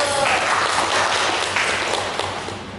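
A student audience at a campus talk with student council leaders claps together, a dense, continuous patter of many hands that gradually tapers off.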